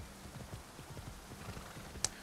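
A fiery horse clip-clops in Assassin's Creed Odyssey, its hooves making a soft, regular trot that is fairly quiet, then a brief sharp click near the end.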